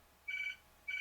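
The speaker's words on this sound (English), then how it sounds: "I'm sorry the phone's calling." A telephone rings with two short, evenly spaced electronic tone bursts, fairly faint and heard alone indoors.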